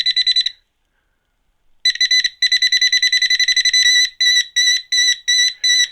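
A Nokta Accupoint pinpointer metal detector gives its ferrous-target alert: loud, rapid electronic beeps in clipped bursts, a short pause, then steady repeated beeping that slows into spaced pulses.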